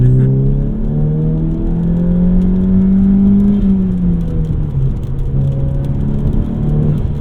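A modified 2018 VW Golf GTI accelerating over uneven pavement, its engine note climbing in pitch then easing off after a gear change, loud and close with a steady low rumble and road noise, no voices.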